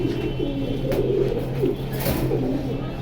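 A Silver Punky pigeon coos in low, steady rolling notes that carry on without a break, close to the microphone over a constant background hum.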